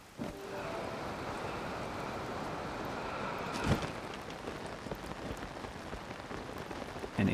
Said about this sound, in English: It has been raining a lot in this episode.